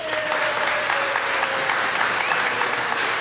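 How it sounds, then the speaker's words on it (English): Audience applause after a live radio drama performance by the Riverside Township Radio Players, a dense, steady clapping from a sizeable crowd, even in loudness from start to finish. "give them another round of applause"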